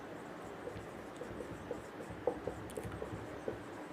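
Chalk or marker writing on a board while a maths teacher works through a right-triangle trigonometry problem, giving light scratchy taps and strokes in an irregular rhythm, moderately close and fairly quiet against room hiss.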